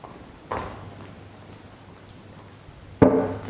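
Heavy monsoon rain pours steadily in a flooded town ward in Tharad, Gujarat, a dense even hiss with two sharper splashing bursts cutting in.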